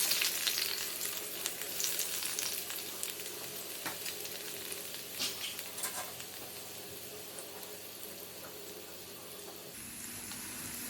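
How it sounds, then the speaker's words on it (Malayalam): Onions frying in hot coconut oil for a Kerala-style clam roast, a steady dense sizzle with occasional stirring and crackles, close and continuous, easing off near the end. "നന്നായി ചൂടായതിന് ശേഷം നമുക്കിതിലേക്ക് സവാള ഇട്ട് കൊടുക്കാം."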